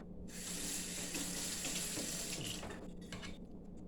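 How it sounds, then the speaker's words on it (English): A spoon is rinsed under a running kitchen tap, the water flowing in a steady close rush that eases slightly near the end, with no talking. "I'm just rinsing my spoon off."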